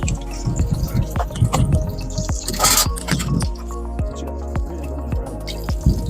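Red snapper frying on a Weber kettle grill outdoors, with steady wet drips and squishy pops falling in an irregular rhythm over a low hum, close and fairly loud, with no talk.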